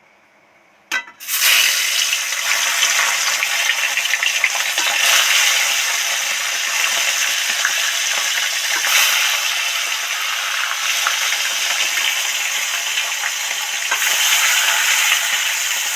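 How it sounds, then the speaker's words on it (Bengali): Fish dropped one by one into hot oil for a fish curry, starting with a splash and then a loud, continuous frying sizzle that holds steady close by. "তেল তো গরম হয়ে গেছে উপরে কেমন একটা আতাশ উঠছে এবার এর মধ্যে মাছগুলো একটা একটা ছেড়ে দেবো"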